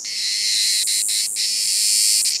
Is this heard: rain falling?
no